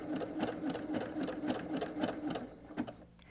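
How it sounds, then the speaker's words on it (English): A sewing machine stitches through a canvas tote bag, running in a steady stream of close, rapid needle pulses that slow and trail off near the end. "As I get to that end, I'm just going to sew right off it."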